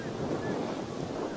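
Strong gusting wind sweeps across a sandy outdoor cricket ground during a league match, a steady broadband rush buffeting the microphone, fairly close and unbroken for the whole moment.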